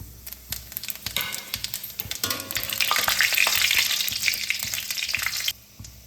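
Dried red chillies and panch phoron crackle and sizzle in hot mustard oil, a loud, steady frying hiss with bursts of popping that swells through the middle, then cuts off abruptly near the end.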